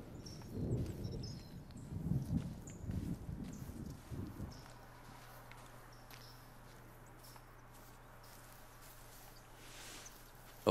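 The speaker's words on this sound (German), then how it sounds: "Scheiß Donner." Rolling thunder in the hunting game theHunter: Call of the Wild, a loud low rumble over the first four seconds that fades into a steady low hum and faint ambient outdoor noise.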